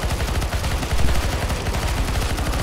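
Rapid automatic gunfire from Counter-Strike: Global Offensive in the Zombie Escape mod on the ze_atix_apocalypse map, with loud, continuous bursts of overlapping shots and no talk.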